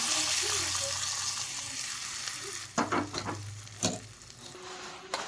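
Hot tempering of mustard seeds and curry leaves stirred into mashed eggplant for a North Karnataka bharta, a soft sizzle under quiet scraping, with a few sharp spoon clatters against the pan.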